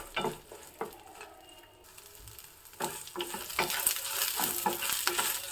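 Flat beans frying in oil in a pan, with scattered spoon scrapes and stirring clatter early, a brief lull, then a building sizzle with repeated close stirring strokes.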